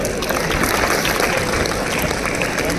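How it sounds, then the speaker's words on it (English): Steady, close audience applause at a cloud technology conference talk, a dense wash of clapping hands holding an even level throughout. "Big round of applause for her."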